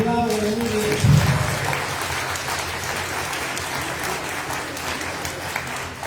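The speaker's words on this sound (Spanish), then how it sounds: "y que aplaude muy bien" An audience at a Lenten spiritual retreat applauds in a steady, dense wash of clapping that continues throughout, with a brief voice near the start.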